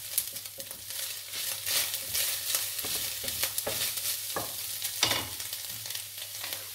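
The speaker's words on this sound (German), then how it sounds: "Dann kommt jetzt das vegane Hack dazu. Das brate ich auch ganz kurz an." Vegan mince sizzles and crackles loudly in a hot pan alongside onions, with a steady hiss broken by repeated scraping stirs and bursts of spatter, no voices.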